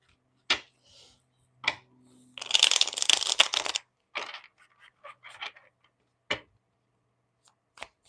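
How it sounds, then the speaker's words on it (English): A deck of tarot cards is shuffled: a dense riffle of crisp paper flutter lasting over a second, surrounded by scattered card taps and slaps in a quiet room. "Let me shuffle this one more time."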